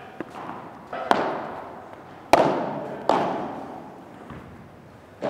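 A padel ball struck with volleys during a four-player group lesson, several sharp close impacts spaced about a second apart, each ringing briefly off the court walls before fading.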